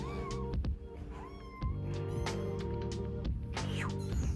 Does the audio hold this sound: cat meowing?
yes